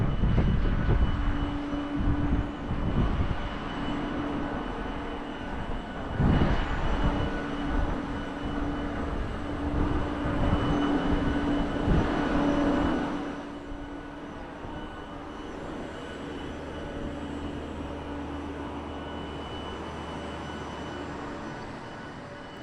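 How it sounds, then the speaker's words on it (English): Sidewalk sweeper machines running at Mount Rushmore memorial, a broad steady motor roar that swells and then settles into a lower drone, heard outdoors with no talking. "They got their sidewalk sweepers going."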